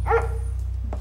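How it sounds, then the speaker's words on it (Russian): A single short dog bark or yip indoors, close and fairly loud, followed by a quieter whimpering tail, over a steady low electrical hum. "Дэн, хватит лаять. Не раздражай соседей"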